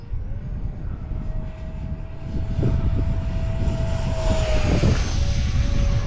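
A 70mm electric ducted fan RC jet makes a full-throttle pass on a windy day, a loud steady whine that swells as it approaches, over constant wind rumble.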